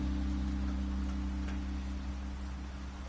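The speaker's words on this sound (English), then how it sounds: "Now it's raining." Steady rain falls in the video game The Wolf Among Us, a dense, even hiss under a low ambient hum, continuous and fairly quiet with no voices.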